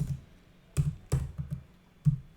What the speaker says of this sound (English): I'm manually typing it